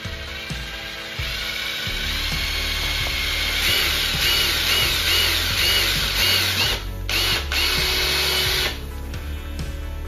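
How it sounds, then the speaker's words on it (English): A power drill drills a hole in a septic system pipe, whirring steadily at close range, its motor pitch shifting as the bit bites in, running continuously with no voices. "we'll get a little drill bit, drill that in there"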